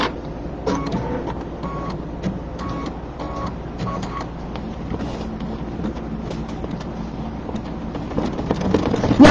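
An embroidery machine stitches a lamppost design in a fast, rhythmic mechanical chatter with brief tonal beeps and whirs, running close and steady without talk.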